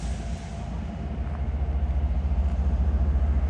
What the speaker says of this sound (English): So we got a northbound train coming on the CSX line.